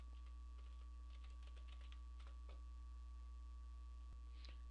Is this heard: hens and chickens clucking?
no